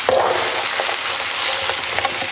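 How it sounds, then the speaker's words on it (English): Birds Eye Voila fajita chicken skillet meal with corn and beans sizzles loudly in a hot pan as it gets stirred, a dense, steady frying hiss with faint scraping, close up and continuous. "first, we're going to get this stirred up just a little bit."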